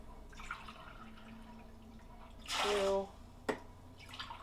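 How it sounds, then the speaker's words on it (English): Water pours from a Brita filter jug in a single steady stream of about half a second, followed by a small clink. A voice counts quietly in the background. "I think I'm just going to use my Brita filter really quickly"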